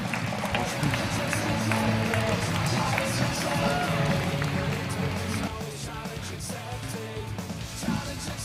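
A conference audience applauds and cheers a magician taking the stage, with dense, continuous clapping and crowd noise held at a steady loud level and easing slightly near the end.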